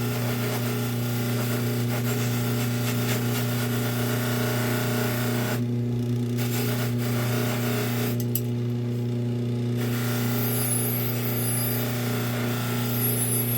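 A firearm part, a polished ring among its surfaces, is block sanded with sandpaper, giving a steady close abrasive rubbing over a low constant hum, with two brief pauses partway through.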